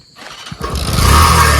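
A motorcycle kick-started during rainy weather in Vadnagar: after a brief quiet pause, a few sputtering turns catch and the engine roars to life, settling into a loud, close, steady running note.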